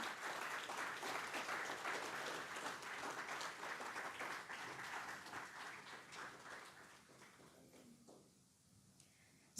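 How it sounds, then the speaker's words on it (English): An audience at a stock exchange opening bell ceremony for Piotex Ltd gives a round of applause, a dense wash of clapping that holds steady and then gradually thins and fades toward the end. "I would like you all to have a huge round of applause for this beautiful day here"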